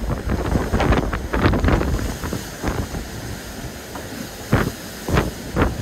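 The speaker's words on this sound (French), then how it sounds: "Regardez, on a plus de 50 nœuds de vent." Gale-force wind above 50 knots at sea aboard a racing sailboat in the Vendée Globe, roaring gusts buffeting the microphone in loud irregular bursts over churning water.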